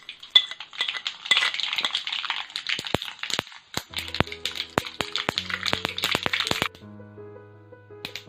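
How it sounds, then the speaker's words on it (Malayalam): Mustard seeds crackle and pop in hot oil in a kadai while making rava upma, a dense run of sharp spluttering bursts that thins out toward the end, with background music and no talking. "കടുക് പൊട്ടിക്കഴിഞ്ഞു."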